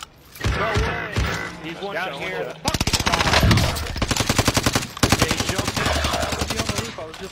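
Rapid bursts of video game gunfire crackle loudly in quick rhythmic volleys, with players talking over the shooting.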